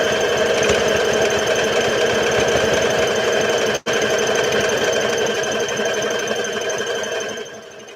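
A sewing machine stitches in one continuous close, loud run around the foot piece of a Simplicity S8855 garment, broken by a split-second pause midway, then easing slightly toward the end.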